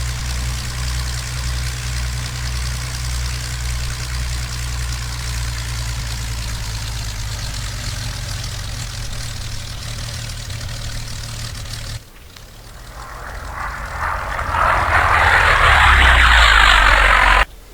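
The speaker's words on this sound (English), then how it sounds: "it looks like this P-40 is coming back in as well" A P-40 fighter's engine in the flight sim IL-2 drones at a low, steady idle-like rumble, then drops briefly and swells into a louder, harsher roar as the plane comes back in.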